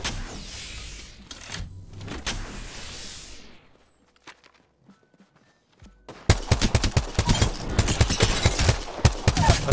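Bursts of rapid gunfire from a crypto-themed shooter video game, a scattered volley early on, a near-quiet stretch, then a dense loud run of repeated shots to the end.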